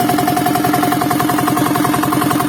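A diesel engine on a boat runs loud and steady during a water test, with a rhythmic clattering idle throbbing continuously and close by, no voices over it.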